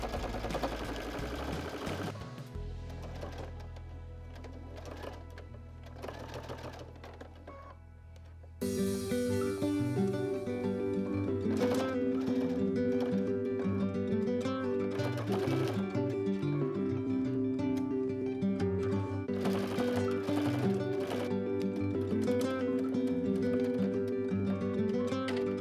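A sewing machine stitches a quilt seam with a quarter-inch allowance through pinned layers, a steady close mechanical whir that runs continuously with no one talking.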